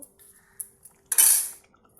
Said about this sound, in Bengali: বয়েল ডালগুলো এটার মধ্যে ঢেলে দিচ্ছি।